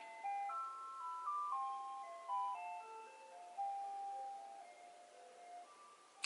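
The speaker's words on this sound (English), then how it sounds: "the ice cream truck is rolling on by" An ice cream truck's chiming jingle drifts past outdoors, a tinkling tune of single notes playing steadily at moderate distance with no talk over it.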